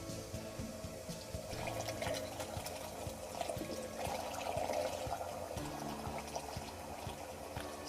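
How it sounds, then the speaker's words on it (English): Water rushes from a water heater drain valve out through a hose, a continuous gushing, bubbling flow with small splashes, fairly faint and steady throughout. "So with my screwdriver I'm opening the valve counterclockwise, and that should start pushing water out the hose."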